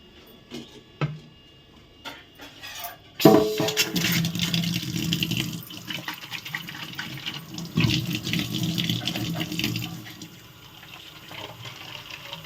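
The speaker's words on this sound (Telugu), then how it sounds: "మోటార్ వేసుకున్నాం కదా, వాటర్ అయితే దీంట్లోంచి వస్తుందన్నమాట." Water from a motor-pump-fed tap starts after a few handling clicks, then gushes steadily and close, splashing loudly for several seconds before easing slightly toward the end.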